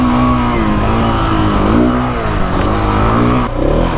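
Big bore dual sport motorcycle revving off road, its engine loud and close with rising and falling pitch through several throttle blips, continuous over the whole stretch and no one talking.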